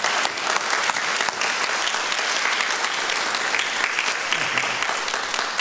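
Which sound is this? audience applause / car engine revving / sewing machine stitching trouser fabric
audience applause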